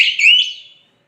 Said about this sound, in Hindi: यहाँ से सिंगल बीप की आवाज़ आएगी